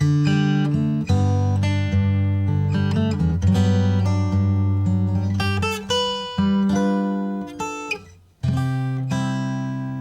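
A solo guitar chord arrangement moves through a G seventh and resolves to C, with rich, ringing chords strummed and let sustain, plus some quicker melodic fills between, played close and clear without talking.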